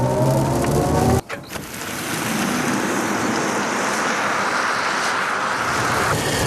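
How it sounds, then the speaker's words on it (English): A BMW i5 electric car launches under launch control with the rear wheels spinning up, giving a sudden surge of loud, broadband road and tyre roar that holds steadily after a brief dip. "With this brilliant weather, I think it's time to try the launch control. Spinning up the rear wheels a bit."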